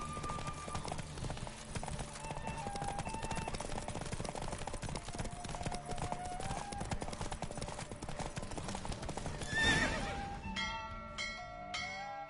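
Steady rapid hoofbeats of a galloping horse in the video game The Witcher run throughout, with a brief whinny near the end followed by sparse ringing tones.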